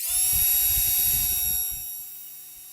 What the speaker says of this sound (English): you want a sharp bit that will remove the plastic, not push it to the side